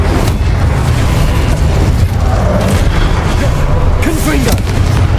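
Incendio fire spell cast in Hogwarts Legacy: a loud, continuous booming rumble with bursts of crackle and low explosive thuds, and a voice talking over the blast.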